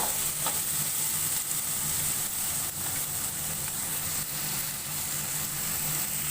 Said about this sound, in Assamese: ল' ফ্লেমত এইখিনি কমেও 10 মিনিটৰ কাৰণে ভাজি থাকিব।